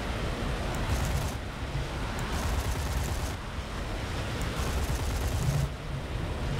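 Bombs dropped from an IL-28 jet bomber detonate in War Thunder combat, a dense continuous rumble of blasts and crackling fire with surging low booms throughout, loud and without pause.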